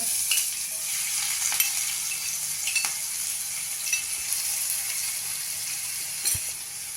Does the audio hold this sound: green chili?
yes